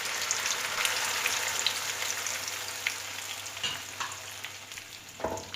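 Masala fries in a pan for a sprouted green gram and palak curry, a continuous close crackling sizzle with occasional stirring scrapes and no talk.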